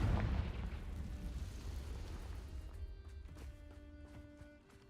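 A Confringo blast spell in a Harry Potter video game, a deep booming burst with a rumbling tail that fades over several seconds, followed by softer chiming magical tones.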